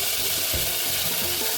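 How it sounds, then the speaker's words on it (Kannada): Onions and tomato, with ginger-garlic paste, fry in a pan for veg biryani, a loud, steady sizzle that runs unbroken through the short moment with faint stirring scrapes. "ಫ್ರೈ ಮಾಡ್ಕೊಳ್ಳೋಣ"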